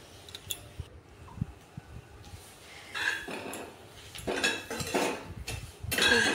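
Taro leaves dry-roasted in a pan over a high flame are stirred with a utensil, giving close clinks and scrapes against the metal, scattered at first, then denser bursts of rustling, scraping stirring.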